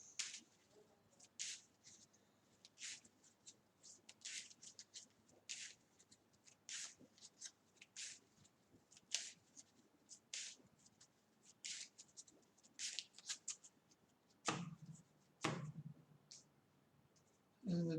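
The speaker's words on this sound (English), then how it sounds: "Shuffle our deck." Cards are shuffled and handled close up: a long run of quick riffling flicks and soft taps in uneven bursts, with no talking.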